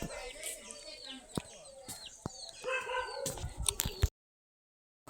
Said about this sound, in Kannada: ಕೋಳಿ ಮರಿನೂ ಇತ್ತು ನೋಡಿ.